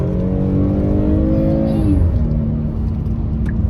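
A 2020 Hyundai Palisade SUV accelerating hard in sport mode, heard from inside, with a loud rising engine whine that climbs in pitch, drops at a gear shift, then pulls steadily again.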